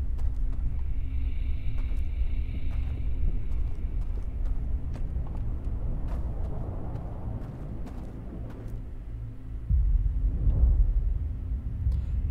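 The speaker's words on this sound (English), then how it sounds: "Yeah, that's the sound of the universe ending." A low, continuous universe-ending rumble from the space exploration game Outer Wilds, The Outsider DLC, fills the scene with deep droning noise and scattered crackles, swelling slightly near the end.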